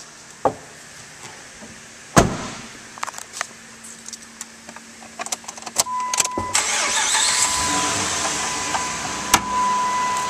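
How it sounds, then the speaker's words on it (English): A 2006 Dodge Ram 1500 Hemi 4WD pickup is started: a few sharp clicks and thumps, then the engine turns over and settles into a steady idle, with a faint tone appearing near the end. "Now we'll start up this truck."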